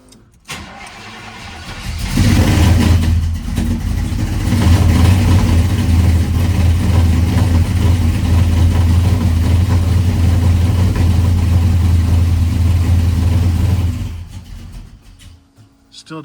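1985 Chevy C10 engine cranking and catching, then running loud and rough without settling into an idle, a steady uneven rumble for about twelve seconds before it cuts out.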